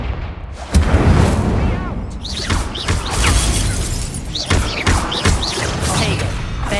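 Fiery Confringo blast spells and Incendio fire in Hogwarts Legacy, a string of loud, close explosive booms and shattering crashes in quick succession, each with a sharp crack and rumbling tail, with swooshing spell effects between them.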